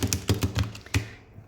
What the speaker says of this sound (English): as I shuffle the cards, please focus on the person who you have the question about